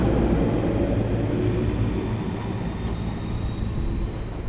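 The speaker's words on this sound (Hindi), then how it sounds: "ये मेट्रो जा रही है।" A metro train rolls past at a quiet suburban station in Japan, giving a steady, loud low rumble that eases slightly as it goes, with a faint high whine running through it and no talking.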